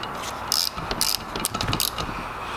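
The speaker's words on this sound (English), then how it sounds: "I'm going to take my 13mm here. It's going to drive it on home until this thing bottoms out." Quick ratcheting clicks from a 13mm ratchet run a bolt down on a Chevy Cruze oil pump, several short bursts of close, crisp pawl clatter with brief pauses between strokes.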